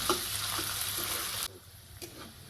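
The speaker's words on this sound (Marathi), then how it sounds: "सोबतच मी वटाणा पण तेलात टाकून घेतलं छान असं आपल्याला तेलात लाल होऊ द्यायचा कांदा पण" Onion and green peas frying in oil for pea poha, a close hiss of sizzling that suddenly drops away partway through, leaving quieter stirring and a couple of soft clinks.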